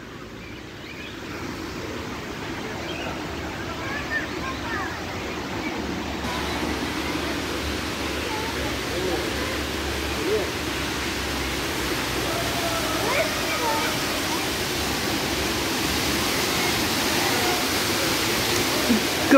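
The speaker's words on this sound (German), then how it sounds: "hier vorne ist ein kleiner Wasserfall. Ich vermute mal, man hört ihn auch schon." A small waterfall in a zoo park in Agadir rushes steadily and loudly close by, a continuous broadband roar that grows slightly louder over time.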